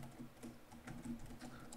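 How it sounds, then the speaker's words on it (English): Regular-speed typing on a computer keyboard picked up by a Rode PodMic: a quiet, steady patter of soft key clicks close to the microphone with a low background hum. "This is me typing at a regular speed,"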